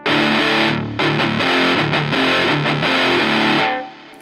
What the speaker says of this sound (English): as you turn the tone knob down, it takes all the bass frequencies out, leaving you with the treble.